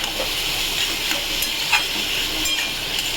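Ground shrimp paste frying in a pan over a high flame, a dense, loud, continuous sizzle with faint crackles and no voices over it.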